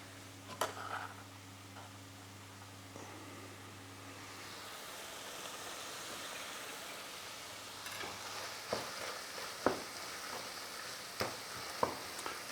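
Garlic sautés in a pan with softened Swiss chard, a soft steady sizzle under a low background hum, with occasional spoon scrapes and clicks as it is stirred.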